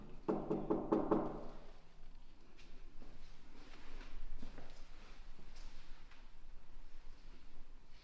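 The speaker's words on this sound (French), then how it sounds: "Faites un bruit en tapant sur une porte" A quick burst of several knocks on a door inside a large old manor room, rapid raps early on, then only faint room noise.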